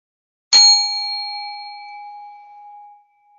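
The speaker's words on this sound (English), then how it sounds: "I'm going to go ahead and ring the bell." A single meditation bell struck once, a bright clear strike that rings out in a long, pure, slowly fading tone for about two and a half seconds, heard alone in silence.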